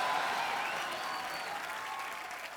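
Studio audience applause on a Hindi comedy talk show, a full, continuous roar of clapping that starts loud and eases slightly toward the end, with no voices over it.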